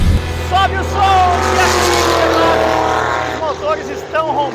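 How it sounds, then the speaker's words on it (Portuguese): Stock Car race car engines roar loudly in a sustained, close, rising-and-falling drone, with a commentator talking over them. "Os motores estão roncando alto."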